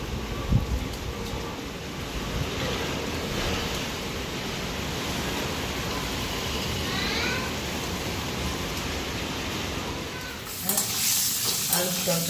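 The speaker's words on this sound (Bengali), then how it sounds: "আলুর তরকারি বানাচ্ছি।" Potato curry sizzles steadily in a pan while it is stirred, a dense continuous frying hiss up close, with a scraping clatter of the stirring near the end.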